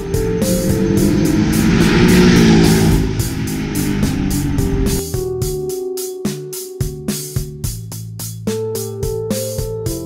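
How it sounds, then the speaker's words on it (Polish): Engine of a Porsche 718 Cayman sports car, a loud, smooth rising drone that gives way to a rapid, regular clicking pattern, heard alone and close. "oto Porsche 718 Cayman"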